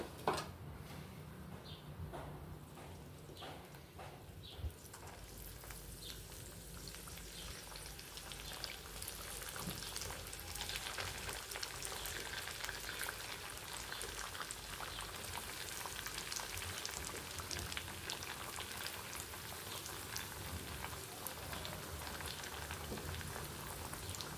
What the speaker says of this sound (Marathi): तेलामध्ये वड्या टाकले की आपण थोड्या अशा हलवून घ्यायच्या